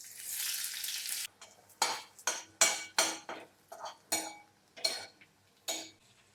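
Chopped onion hitting hot oil while making poha for breakfast, an opening burst of loud sizzling followed by a string of sharp stirring scrapes and clinks of a spatula against the pan, each dropping back into a steady frying hiss.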